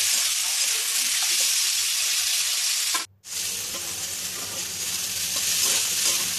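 Onions and green chillies fry in a pan, making a loud, close, continuous sizzle with scraping stirs, broken by a brief pause near the middle before the hiss resumes.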